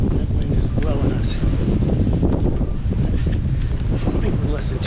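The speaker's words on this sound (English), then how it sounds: "pretty windy up here. Haven't seen gusts like this on the trail before." Strong gusts of wind on a foggy mountain hiking trail, a loud continuous roar buffeting the microphone without a break for the whole stretch.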